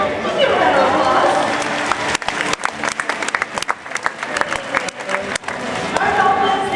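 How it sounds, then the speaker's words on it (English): An audience at a dolphin show at the National Aquarium in Baltimore claps for a volunteer, with dense applause that swells and then breaks into scattered claps, with crowd chatter and voices mixed in. "Let's give him a round of applause."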